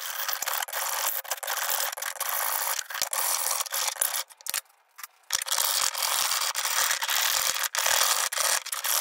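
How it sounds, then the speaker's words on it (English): A hacksaw cutting through a unicycle seat post braced on a piece of wood, loud close-up rasping strokes in a steady rhythm with one brief pause midway. "And obviously take the hacksaw"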